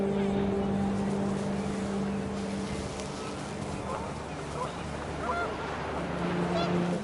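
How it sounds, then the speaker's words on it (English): Panicked geese honk in the video game What Remains of Edith Finch, faint repeated honks over steady wind and a low droning hum, the calls scattered and brief under the ambient bed. "The wind picked up, and panicked geese appeared and quickly went."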